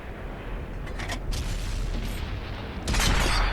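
A tank cannon firing in the World of Tanks console game, a heavy booming blast with a rumbling tail over constant engine drone, the loudest hit arriving near the end.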